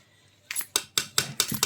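Metal tongs clink against a clay pot while lifting out food cooked over a wood-fired stove: six quick, bright metallic taps in an uneven rhythm, close and clear.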